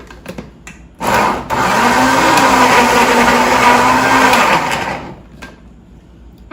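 A home blender whirs loudly as it blends pineapple for jelly, starting abruptly, running steadily for about four seconds at close range, then cutting off.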